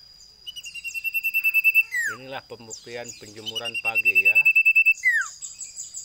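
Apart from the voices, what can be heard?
cipoh (iora) songbird singing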